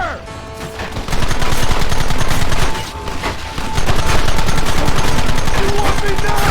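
Loud, dense rapid gunfire in the Red Dead Redemption video game, a sustained rattle of many shots that dips briefly midway and then resumes at full intensity.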